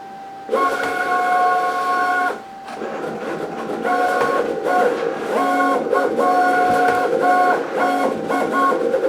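Cricut Venture 24-inch professional cutting machine running a cut, a steady loud whirring with bright stepped motor tones that start and stop in bursts as the carriage moves, close and alone without talk.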